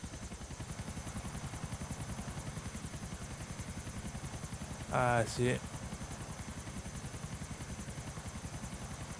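A helicopter in Grand Theft Auto 4 drones with a steady, rapid rotor chop throughout, while a player's voice cuts in briefly partway through.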